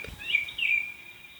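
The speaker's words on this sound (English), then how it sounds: "This repetitive loop of bird sounds has often found its way into my dreams" A looped recording of chirping bird song plays from a device, two bright whistling bursts in quick succession, fairly loud and close.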